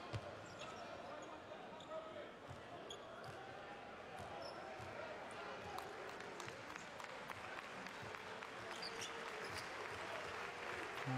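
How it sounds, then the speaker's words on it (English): Crowd applause fills an arena at a Basketball Champions League game between Pinar Karsiyaka and Enisey Krasnoyarsk as time winds down. It is a steady, dense roar with scattered sharp claps and ball bounces, fairly distant, and faint voices are underneath. "the crowd are applauding because they know time is pretty much up here"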